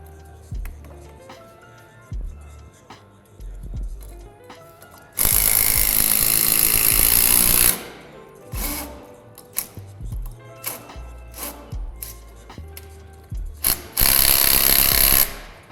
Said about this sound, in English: Secure all wall logs with 6 by 180 screws.